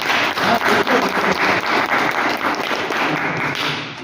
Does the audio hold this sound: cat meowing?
no